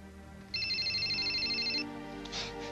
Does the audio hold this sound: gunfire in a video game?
no